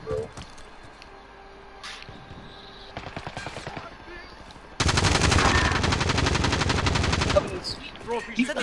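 Gunfire crackles in scattered shots and short bursts, then becomes a dense, loud, sustained rapid-fire volley for several seconds before easing off near the end.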